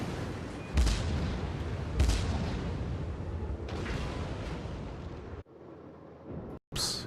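Yamato's secondary battery guns fire in World of Warships, a rolling barrage of heavy booms over a continuous roar of battle, with two especially strong blasts early on, then a sudden drop to quieter rumble and a final loud burst.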